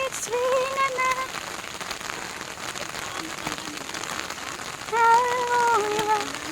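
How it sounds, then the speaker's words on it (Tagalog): Rain falling on the shore of Neihu Lake, a steady patter of drops on surfaces, with faint whistling or chirpy tones drifting in and out over the wet hiss. "It's raining man!"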